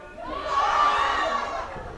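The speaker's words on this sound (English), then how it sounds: "The crowd excited and urging and expectant as Port Moody attack again." Spectators at the BC Soccer men's A-Cup final between Port Moody Premier and BB5 United roar and shout as the home side attacks, a swelling mass of excited voices rising and then easing over two seconds.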